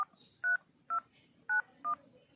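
Four short electronic keypad tones, evenly spaced, each a clear two-pitch beep from phone dialing, over a faint hum.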